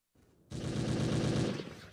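Rapid burst of gunfire from a movie soundtrack, loud and dense, starting abruptly after a brief quieter lead-in and rattling continuously for over a second before tapering.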